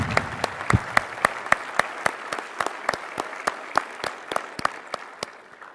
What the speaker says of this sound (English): A round of applause for everyone today